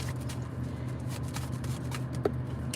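Tarot cards are shuffled in quick soft riffling bursts, faint and close, with a small sharp tap near the end.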